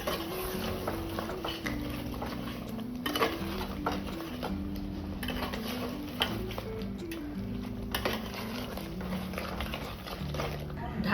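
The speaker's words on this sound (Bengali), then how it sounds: "আর একটু কষিয়ে নেবো মাটনকে" Mutton being stirred and fried in a pot for a Bengali curry, with repeated scraping and clinking of a spoon against metal over a faint sizzle, close up, under a voice and steady background music.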